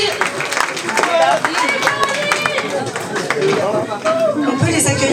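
An audience claps and cheers for the ten Miss Yonne 2024 candidates at the pageant, a busy burst of applause and crowd chatter with voices mixed throughout.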